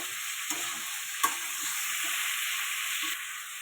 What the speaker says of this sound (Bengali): এবার দিয়ে দেবো হলুদ, লঙ্কার গুঁড়ো, দিয়ে এটা ভালো করে কষাবো।